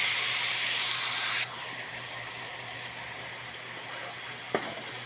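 Soy sauce hits a hot pan of pancit guisado with vegetables, giving a loud, broad steamy sizzle that cuts off after about a second and a half into a softer steady hiss, with a brief clink near the end.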